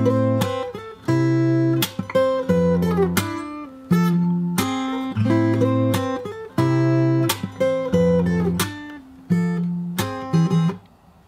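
Fingerstyle acoustic guitar plays the intro of a song, sustained picked chords broken by sharp percussive body slaps in a steady repeating rhythm, close and fairly loud with no voice.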